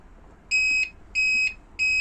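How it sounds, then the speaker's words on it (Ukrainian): An electronic device fitted in a custom GAZ-66 truck beeps three times in a steady rhythm, each tone short, shrill and clear against quiet background hiss. "Якщо він пищить, значить він працює."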